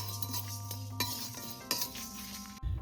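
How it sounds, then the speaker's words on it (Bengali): Cumin seeds and dried red chillies dry-roasting in a bare pan, with light clinks and scrapes of a utensil stirring them and a brief sharper knock near the end, no talking. "এবার জিরেটাকে আর শুকনো লঙ্কাটাকে একটু ভেজে নেব শুকনো খোলায়"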